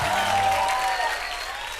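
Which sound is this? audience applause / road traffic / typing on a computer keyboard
audience applause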